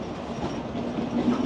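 Cox's Bazar Express train creeping toward the platform at night, a faint, brief low rumble with a soft squealing tone rising near the end.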